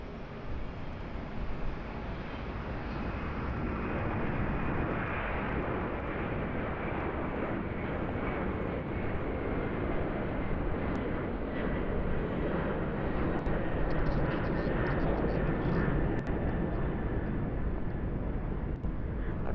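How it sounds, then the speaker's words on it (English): A Qantas airliner bound for Singapore takes off at Sydney Airport on a stormy, windy morning, a broad, steady engine roar holding at a distance for the whole stretch with wind noise mixed in. "Qantas 81 heading off to Singapore."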